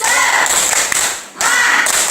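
A group of children doing a rhythmic 'tepuk semangat' cheer clap in a classroom, dense crowd clapping and shouting in bursts, loud and close, with a brief dip near the middle.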